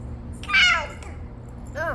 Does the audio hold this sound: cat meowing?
yes